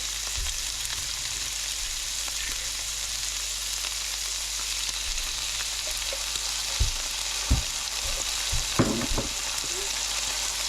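Boiled horsetail greens and pork stir-fry in a hot pan, a constant sizzle broken by several sharp clanks and scrapes of a utensil toward the end; no speech.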